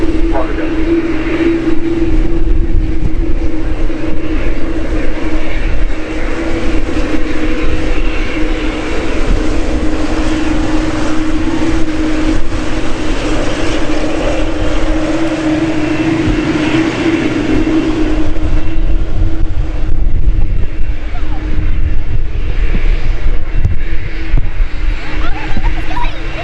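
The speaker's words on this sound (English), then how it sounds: "Particular aircraft heading to Melbourne." Airliner engines at Manchester Airport, a loud sustained jet roar with a steady droning tone that holds for the whole stretch, swelling slightly near the end as the aircraft passes.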